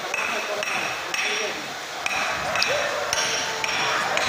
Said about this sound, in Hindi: अब हथौड़ा से बैठाएंगे।